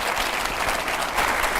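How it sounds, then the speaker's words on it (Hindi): Loud, dense applause rings out in a TV debate studio as a guest is introduced, a continuous wash of many hands clapping with no voices on top. "जोरदार तालियां"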